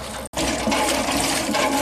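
Water gushes and splashes steadily as things are rinsed outdoors in a jungle setting. After a momentary break near the start, the flow is loud, close and continuous, with no talking.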